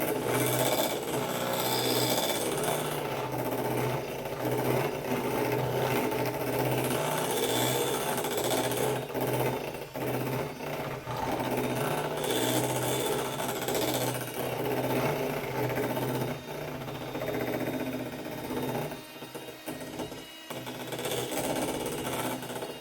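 An electric mixer beats fruit dip in a bowl, a continuous rough whirring and rattling that runs steadily throughout, loud and close, with no talking.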